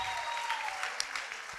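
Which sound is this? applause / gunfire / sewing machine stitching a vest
applause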